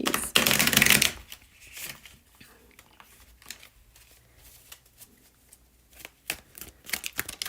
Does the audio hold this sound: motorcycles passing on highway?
no